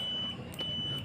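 A continuity tester buzzer sounds steady and fairly close while it checks a battery pack circuit on an impact tool that won't work, cutting out briefly mid-way before resuming.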